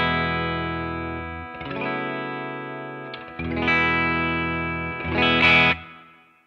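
An electric guitar plays a clean tone through a Matchless Clubman amp capture with reverb, three sustained chords ringing out clearly in turn, the last one brighter and louder before it fades.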